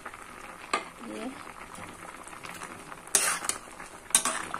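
Potato and eggplant curry with green chillies stirred in a pan. A spoon gives a few sharp metallic scrapes and clinks over a low sizzle, and someone speaks briefly.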